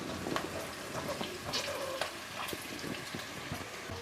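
Onion, green chillies, ginger and garlic frying in a pan for chicken yakhni pulao, a faint continuous sizzle with light crackles and occasional stirring clicks, no talking.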